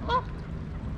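Waterfowl in Queen Elizabeth Park, Vancouver, on a rainy day give a single brief nasal honk near the start, followed by quiet outdoor ambience.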